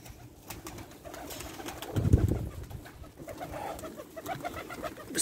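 A pigeon gives a low, throaty coo up close, a single rolling call rising in the middle, with faint rustling around it.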